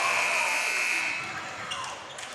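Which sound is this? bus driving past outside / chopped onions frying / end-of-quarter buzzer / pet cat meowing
end-of-quarter buzzer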